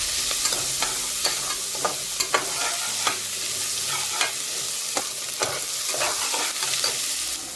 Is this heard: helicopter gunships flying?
no